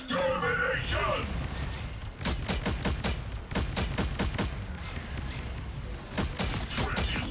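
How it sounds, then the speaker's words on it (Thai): Ultron's ultimate cannon fires in the Marvel Rivals video game as a rapid run of sharp, loud blasts with a dense busy game soundtrack beneath. The shots come in bursts over several seconds. "แล้ว ก็ยิงปืนใหญ่นะครับ เพื่อที่จะทำดาเมจตูนะครับพร้อมกับฮิวเพื่อน"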